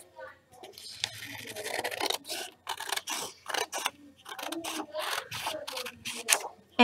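Scissors cut a sheet of paper down the center for a craft vase, giving a run of rasping, crunchy snips close by while a person talks over the cutting.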